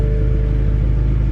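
A warm BMW F10 M5 with a JB4 tune runs in a steady, loud, deep rumble, a continuous close engine drone with no break and no voice.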